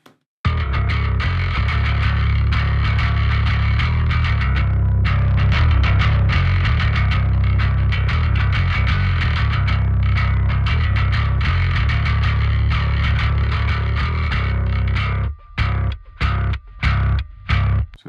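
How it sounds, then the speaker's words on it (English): Overdriven bass guitar recorded with a SansAmp blended in, giving a gritty, biting tone; loud sustained low notes play continuously, then break into short separated plucks near the end. "the Sans Amp adds a little bit more bite and presence to the sound."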